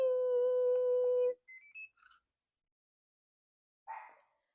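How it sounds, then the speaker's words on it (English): A Kodak Printomatic instant camera sounds a long steady electronic tone, then a quick series of short high beeps, falls silent, and gives one more brief chirp near the end, close and clear with no talk. "So you heard that it went beep, beep,"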